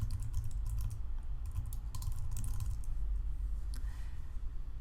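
Rapid, steady clicking of fingers typing on a computer keyboard, close and fairly quiet, with short bursts of keystrokes and no talking.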